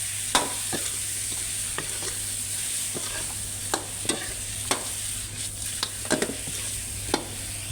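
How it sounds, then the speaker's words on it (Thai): Ingredients fry in a pan under a steady hiss while a utensil stirs them, scraping and tapping at irregular intervals, close and fairly loud with no talk. "หอมแล้วก็ประดกใส่เลยนะทุกคน ดูใส่แล้วก็คนให้เข้ากันนะ"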